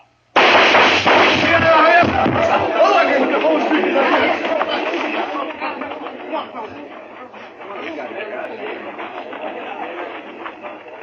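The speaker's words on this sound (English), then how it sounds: "Well, come on, draw, Adam, draw" Gunfire erupts in a Western radio drama showdown, a loud burst of shots and crashing noise followed by a fading, rumbling tail, with voices talking over it.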